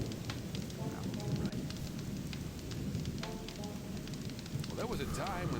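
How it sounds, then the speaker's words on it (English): Rain falls steadily in the video game Gothic, a soft continuous patter with scattered drops, while faint game sounds briefly chirp over it. "The rain makes it hard to gauge the time."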